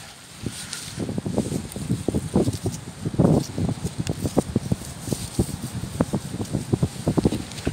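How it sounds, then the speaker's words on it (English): Gusty wind buffeting the microphone outdoors on an old farm, with rustling and irregular rumbling bursts throughout. "it's getting windy"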